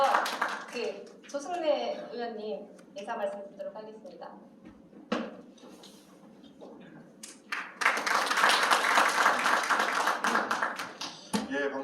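An audience at a political party's media policy press event claps in a sustained burst of applause after a host's spoken introduction, with scattered taps and handling noises beforehand.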